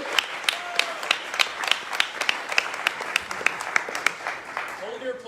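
Sparse, evenly paced claps from a small audience at a history lecture greet speaker Bo Shoemaker, with distinct individual hand strikes and voices murmuring underneath.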